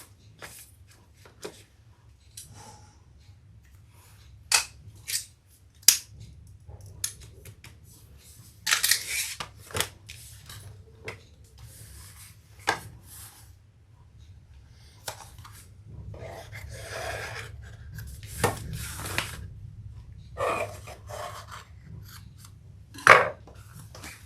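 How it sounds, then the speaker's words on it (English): Scissors cut the center out of a fabric overlay for a bag, giving scattered crisp snips and rustling fabric at close range across a quiet room, with no talking. "Then we'll cut the center out of that overlay."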